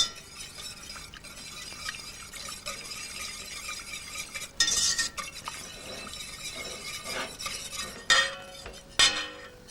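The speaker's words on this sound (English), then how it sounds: "You add your butter gently into it. Keep on whisking it." A whisk works butter into a shellfish sauce in a bowl, giving a continuous scraping swish with occasional bright clinks of metal against the bowl.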